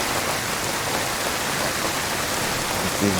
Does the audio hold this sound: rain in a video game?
yes